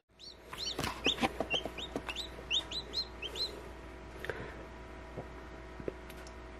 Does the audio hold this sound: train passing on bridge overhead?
no